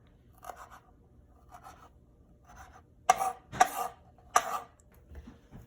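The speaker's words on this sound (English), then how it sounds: "now we're gonna chop up our dill" A knife chops fresh dill for tzatziki on a board, up close: soft scattered cuts first, then three sharper, louder strokes and a few lighter taps, with no talk.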